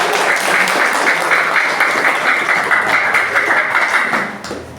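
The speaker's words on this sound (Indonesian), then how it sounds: "Kita kasih tepuk tangan sekali lagi." Classroom applause at SMAN 8 Tambun Selatan, a steady burst of many hands clapping close by for nearly five seconds before tapering off at the end.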